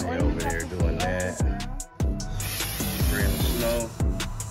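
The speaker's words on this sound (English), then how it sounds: "Spraying the snow on the garland" Aerosol fake snow hisses steadily from a spray can onto a Christmas garland, a long continuous spray running alongside close, constant talk from people decorating the house.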